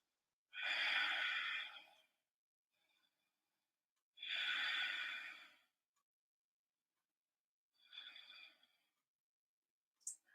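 Two long, deep breaths, each about one and a half seconds, with a quieter, shorter breath after them, taken alone in a quiet room during a yoga flow.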